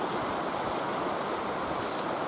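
Water rushes in a stream on rugged terrain on Vancouver Island, a continuous dense hiss of flowing current, close and even, with no voices.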